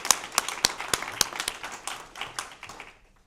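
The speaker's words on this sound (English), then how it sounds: "I think we should give a round of applause to Professor D'Agostino." A lecture audience gives a short round of applause after an introduction, sharp hand claps that start sparse and quickly blend into steady clapping before fading out within a few seconds.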